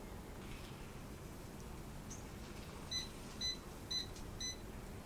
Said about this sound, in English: there was our 4 little beeps